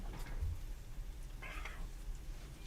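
A cat gives a single short meow partway through, quiet and somewhat distant over a steady low background hum, with no talking.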